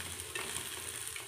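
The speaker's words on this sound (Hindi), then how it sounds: "इसको हमको गोल्डन होने तक भूनना है" Chana dal roasts in a hot pan as it is cooked toward golden brown, giving a steady, dense crackling sizzle with light stirring, close and continuous with no voices.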